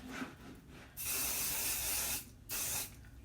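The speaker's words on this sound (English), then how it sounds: "Spray adhesive on my stabilizer." Spray adhesive is misted onto embroidery stabilizer in two steady, loud hissing bursts, the first about a second and a half long and the second shorter, with a brief pause between them.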